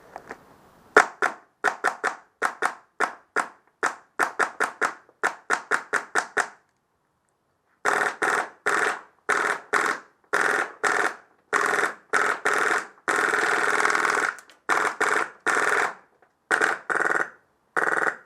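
Rapid bursts of sharp snapping shots in quick clusters, then a short silence followed by a steadier series of louder, hollow clacks with a different tone.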